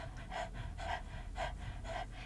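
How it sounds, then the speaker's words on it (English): Rapid, even panting breaths in and out through an open mouth with the tongue out, about four steady puffs, close and soft with no talking. "stick out your tongue and begin a panting breath in and out your mouth"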